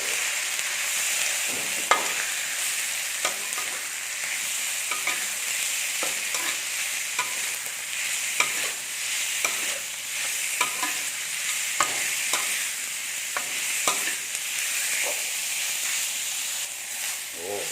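Sliced free-range chicken sizzles steadily in a hot pan for a Thai basil stir-fry while a utensil scrapes and stirs at irregular intervals, a continuous frying hiss running underneath.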